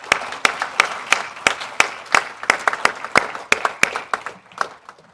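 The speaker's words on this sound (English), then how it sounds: "Let's give them a round of applause." An audience applauds Hall of Fame inductees at a South Dakota Rotary gathering, a moderate crowd clapping in sharp, steady, overlapping claps that taper slightly toward the end.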